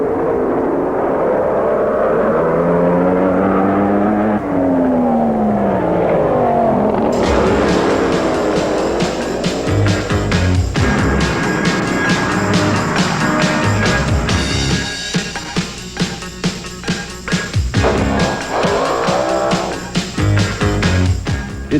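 Sand drag racing cars from the 1980s roar on a sand strip, a rising engine drone giving way to a loud, sustained, high-revving blast as the machines accelerate.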